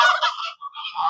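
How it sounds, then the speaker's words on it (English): A Canada goose honks on a farm during morning barn chores, giving a close, loud series of nasal honks with a short break in the middle and no talk over it. "Canada Goose visitor"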